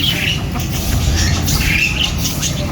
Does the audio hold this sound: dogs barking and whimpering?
no